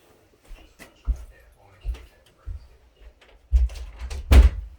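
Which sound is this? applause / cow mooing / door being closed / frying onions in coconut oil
door being closed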